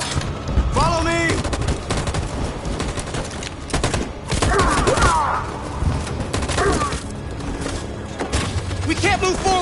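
Heavy machine gun fire in the video game Detroit: Become Human, dense and loud bursts that go on almost without a break, mixed with thuds and shouted voices in the middle of battle.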